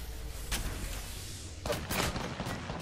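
Video game gunfire from a squad firing in a firefight, with sharp broadband bursts at the start, a dense cluster of rapid shots in the second half, and steady background battle noise underneath.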